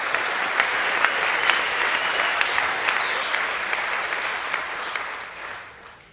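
Steady applause from an audience at an academic awards presentation evening, a dense, even wash of many hands clapping that holds for several seconds and then tapers off near the end.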